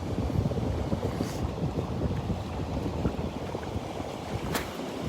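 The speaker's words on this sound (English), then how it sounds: "The wind coming in off the Gulf from the west northwest." Strong wind blows in off the Gulf of Mexico from the west-northwest at Delnor-Wiggins beach, a loud continuous roar with gusty microphone buffeting and no talking.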